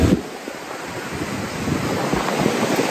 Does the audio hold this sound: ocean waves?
yes